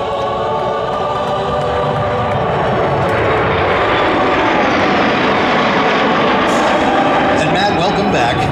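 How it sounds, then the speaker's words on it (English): NASA F-15 and F-18 jets fly past at a sonic boom anniversary event, producing a loud, sustained engine roar that builds and fills the air while people talk underneath. "F-15 and the F-18 from NASA."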